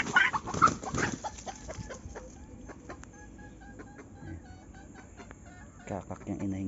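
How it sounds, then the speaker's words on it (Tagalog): A hen clucks in short, scattered bursts close by, with some louder squawking at the start and end over a quiet outdoor background. "Kakak yung inahin ko na yan."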